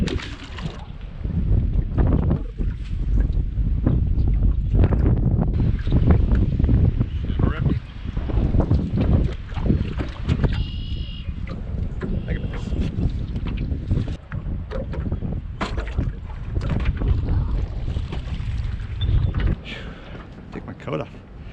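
Strong wind buffets the microphone on a lake during a bass fishing outing, roaring in heavy, uneven gusts with water and boat sounds underneath.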